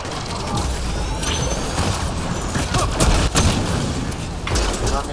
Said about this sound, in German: Kontinuierlicher Beschuss!